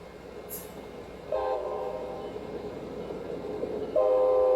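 Cartoon train approaching in a children's learning animation, two bursts of a chordal horn about three seconds apart over a soft rolling rumble that grows louder, with a short chime at the start.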